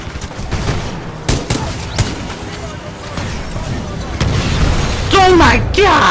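Loud explosions and gunfire boom repeatedly through a Titanfall 2 campaign battle in a factory, sharp bursts layered over a dense rumble, with a voice speaking near the end.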